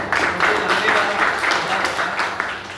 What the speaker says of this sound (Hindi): तो एक बार उनके लिए जोरदार तालियां चाहूँगा।